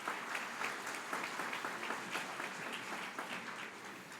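Steady applause from an audience at a graduation ceremony fills the hall, a dense, sustained wash of many hands clapping at moderate volume without letting up.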